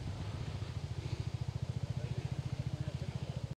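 Scooters and motorbikes arriving on a hill road at Chobhar during a Dashain kite-flying outing, heard as a close, steady putter of a small engine with a regular pulsing beat throughout.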